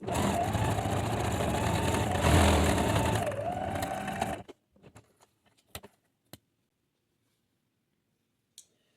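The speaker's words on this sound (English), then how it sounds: "I'm just going to sew on the line where I made the marks" Sewing machine stitching along a marked line on quilt fabric for a mug mat, a steady close motor whir with a brief speed dip, stopping abruptly after about four seconds and followed by a few soft clicks and handling taps.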